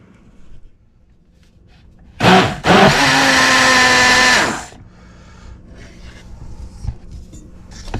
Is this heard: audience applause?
no